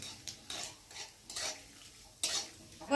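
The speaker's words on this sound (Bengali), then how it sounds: "জিরেটা তেজপাতাটা একটু ভালো করে ভেজে নেব।" Whole cumin seeds and bay leaves fry in hot oil in a pan for khichuri, with a quiet sizzle under several distinct stirring scrapes and a light metallic clink near the end.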